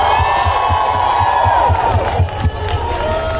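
A large concert crowd in Pune roars with sustained cheering and whoops, loud and close throughout, with a steady rhythmic thumping of music underneath.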